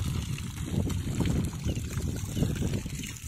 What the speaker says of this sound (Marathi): बघा किती मस्त पाणी पडतंय